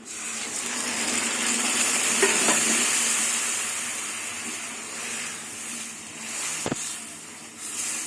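Ingredients for a moong-masoor dal with bottle gourd stems frying in a pan over a very low gas flame, a soft continuous sizzle with a stirring scrape and one sharp knock near the end.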